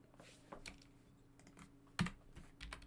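Keys clatter on a computer keyboard during VFX compositing work in Houdini, with a handful of scattered clicks and one sharper, louder keystroke near the middle, all close and dry in a quiet room.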